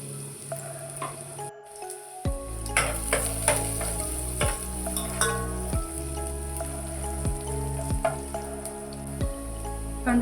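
Garlic and cumin sizzle in hot oil in a pan, a steady crackling fry. A spoon stirs in repeated scraping strokes, and there are occasional clinks, with no one talking.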